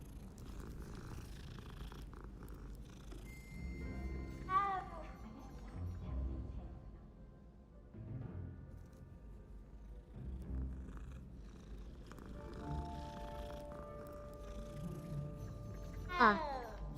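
A cat in Hogwarts Legacy purrs in a soft, continuous rumble, faint and close, with a few light game chimes and effects over it and no voices.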